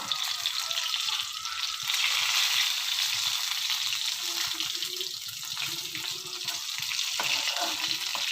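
Eggplant deep frying in hot oil, a loud, steady crackling sizzle that runs throughout with occasional bubbling surges and no voices.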